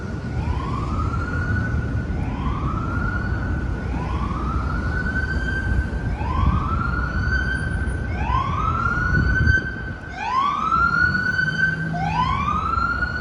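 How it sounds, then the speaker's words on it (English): A Chicago Police Department car siren wails in repeated rising sweeps, loud and close on a city street, with traffic rumbling underneath and the cycles quickening toward the end. "That was an annoying siren."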